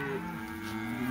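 Cattle mooing during a long cattle drive to a farm paddock, one drawn-out low moo close by in a brief burst with no talk.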